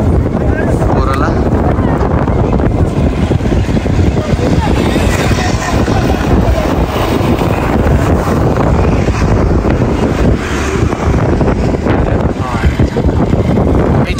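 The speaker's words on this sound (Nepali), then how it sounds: "यस्तो चिसो हावा चलेन, अब कुरै नगरौँ, लास्टै चिसो छ।" Cold, strong wind at the China border in Upper Mustang, Nepal, buffets the microphone in a loud, steady roar that lasts the whole stretch, with no other sound standing out.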